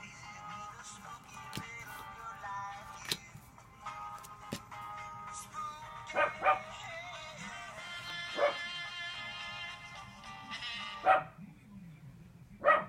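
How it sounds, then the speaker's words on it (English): Dogs bark in scattered bursts at a moderate distance, with a few sharper yips and some whimpering between the barks. "My dogs start going off."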